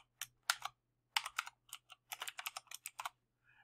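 Code being typed on a computer keyboard, a quick run of crisp key clicks in uneven bursts with brief pauses, close and clear with no talking.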